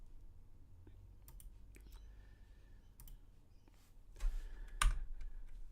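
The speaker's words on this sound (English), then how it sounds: "This is a giant keyboard." A giant keyboard is typed on at an open-source maker event, sparse clicking keystrokes heard at moderate distance with louder clacks near the end, set against a low room hum.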